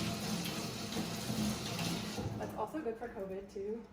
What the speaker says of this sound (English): You probably will find you have to wash your hands